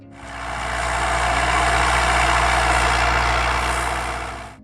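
A Massey Ferguson 175 tractor engine runs steadily at close range, a loud, constant low rumble with vibration that holds evenly throughout before cutting off at the end.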